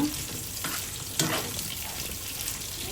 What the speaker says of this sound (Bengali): বন্ধুরা পটলটা ভেজে নিচ্ছি